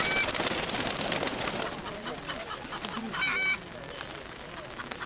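Birds call amid the noise of a livestock fair where pigeons are shown, brief coos and honks close by over a steady crowd bed, with people talking nearby.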